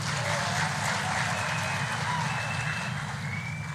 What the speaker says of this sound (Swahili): Tafadhali tumpigie makofi Njoroge Mushiri.